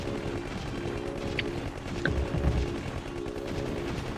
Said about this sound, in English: And shoot the old machine gun all day long.